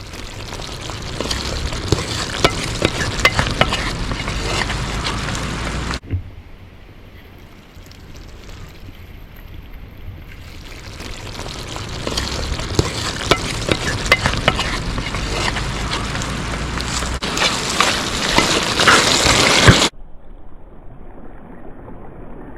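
Black chicken (karimkozhi) cooks down in a pan as the water boils off, a loud crackling sizzle with scraping stirs that cuts to quieter simmering and back again.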